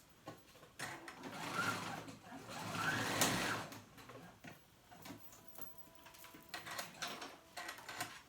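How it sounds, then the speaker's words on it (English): Sewing machine stitching back and forth on a convertible jacket-backpack, bursts of fast whirring with short stops between passes, close and moderately loud. "And then I'm gonna stitch that on to itself. And I go back and forth, back and forth."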